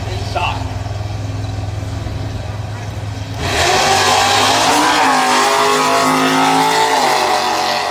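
A 1968 Camaro E-Stock Automatic drag car runs at the New England Nationals drag strip, an idling rumble suddenly bursting into a loud, roaring launch with climbing engine revs, while an announcer talks over it.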